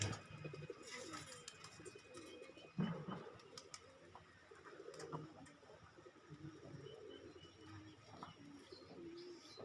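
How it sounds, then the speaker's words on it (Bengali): Racing, Giribaz, Bombay and local pigeons coo softly and repeatedly amid faint rustling and distant background noise, low and continuous throughout. "রেসার কবুতর এগুলা এখানে বাজ্র কবুতর আছে রেসার আছে"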